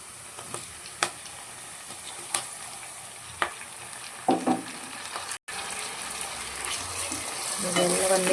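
Chopped tomatoes frying in oil for dhaba-style tomato gojju, a steady soft sizzle with occasional spoon scrapes and stirring knocks in a pan, close by, with no talk.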